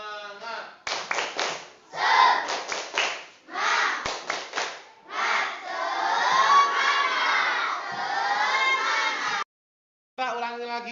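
Children in a classroom perform the rhythmic 'tepuk semangat' clap chant, with bursts of sharp unison claps broken by shouted chanting voices, loud and close, pausing briefly near the end before starting again.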